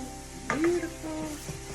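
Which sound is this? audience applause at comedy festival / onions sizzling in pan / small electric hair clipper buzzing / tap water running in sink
onions sizzling in pan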